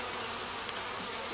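Dense, steady buzzing of a swarm of honey bees at a hive as a box of bees is installed, close and continuous with no talk.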